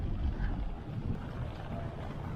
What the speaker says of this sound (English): A windy day on the beach.